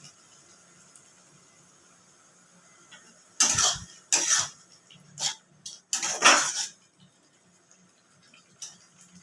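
Chicken with whole green chillies stir-fried in a pot gives a run of loud, close metallic scrapes and clanks in short bursts, separated by near silence.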